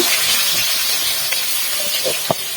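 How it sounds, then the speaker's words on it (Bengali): Chopped onion sizzling in hot oil for beef rezala, a steady broadband hiss with a few brief pops and crackles near the end, close and fairly loud. "তেলটা গরম হয়ে গেছে এখন পেঁয়াজ দিয়ে দিচ্ছি"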